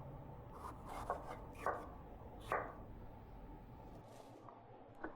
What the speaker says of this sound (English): process the poblano peppers, remove the seeds, and then cut them into 1/4-inch slices